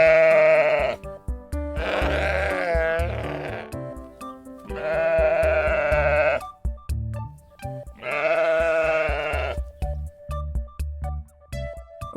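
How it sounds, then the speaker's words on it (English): A sheep bleats in three long, wavering cries, each loud and close, separated by short gaps with a faint rhythmic backing underneath. "Sheep."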